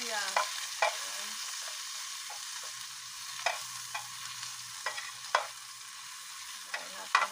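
Ginger frying and being stirred in a pan for a crab dish with string beans and squash: a steady sizzle with repeated scraping stirs and sharp clinks of a utensil against the pan, close and fairly quiet, with no talking.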